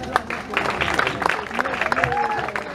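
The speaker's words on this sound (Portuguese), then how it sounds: "agora peço novamente uma salva de palmas" A crowd applauding with scattered claps and cheers at a live concert in Tavira, fairly close and busy, while voices talk over it.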